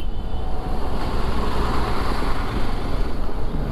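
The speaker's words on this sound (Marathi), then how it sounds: "इथे ट्रॅफिक चालू झालंय." Steady road traffic along the route from Kalyan toward Rajapur in the Konkan, near Karnala Bird Sanctuary, heard as a continuous broadband rumble of passing vehicles, fairly loud and unbroken, with no voices.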